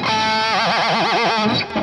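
An electric guitar fitted with a Floyd Rose tremolo gives one loud distorted whinny that mimics a horse neigh, its pitch wobbling rapidly up and down for about a second before it trails off.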